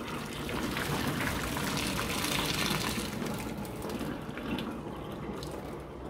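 Water pours steadily from an electric kettle just off the boil in a continuous splashing stream, close by and moderately quiet, lasting several seconds without talk.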